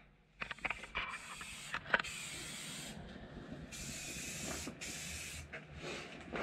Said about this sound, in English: So I'm gonna get spraying now.